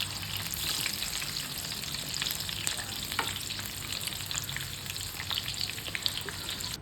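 Corn pakoras coated in cornflour deep-frying in hot oil, a dense, even crackling sizzle close by with scattered sharper pops and occasional stirring, no voices.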